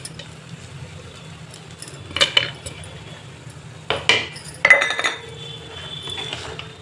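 A spoon mixes sabudana khichdi with plenty of fresh coriander leaves in a pan, with the gas turned off. A few scraping clinks of metal on the pan come in short bursts over a low steady background hum.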